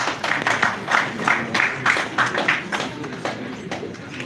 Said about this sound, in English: Please a round of applause once again for the chairman